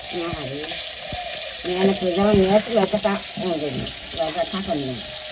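Food fries in hot oil over a village cooking fire, cooking squash, with a steady bright sizzle throughout and close voices talking over it.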